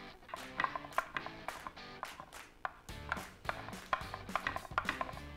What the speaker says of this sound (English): Take 4 good-sized cloves of garlic, take the skin off, and we can just chop them roughly